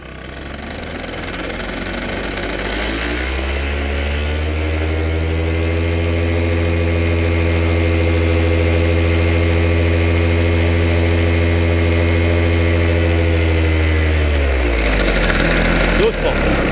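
A small paramotor engine idles close by at an airfield, its drone swelling and holding steady as it warms up, then tapering off near the end.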